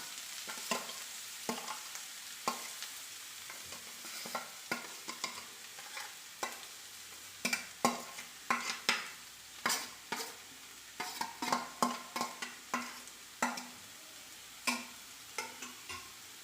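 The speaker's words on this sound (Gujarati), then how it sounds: "ઘી પીગળી ગયું છે તો હવે એમાં એડ કરીશું ગાજરનું છીણ" Grated carrot stirred in melted ghee for carrot halwa, a spoon scraping and tapping the pan in repeated close strokes over a soft sizzle, growing busier toward the end, without speech.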